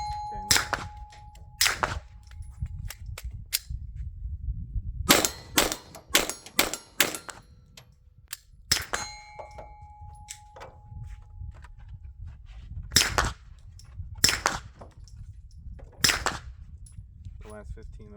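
Shots from a Glock pistol at a shooting range crack out in irregular bursts, some single and some in quick strings, loud and sharp against low background rumble and a couple of ringing tones.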